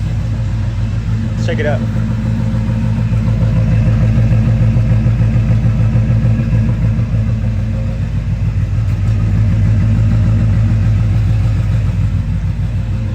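A 1988 Chevrolet K1500 truck engine idles through a newly installed Borla exhaust, a steady deep rumble throughout, with a person speaking briefly over it near the start.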